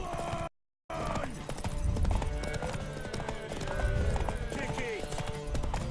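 Horse hooves clip-clop steadily in The Witcher 3, with an occasional whinny, moderately loud beneath game music and ambient sound during a horse race.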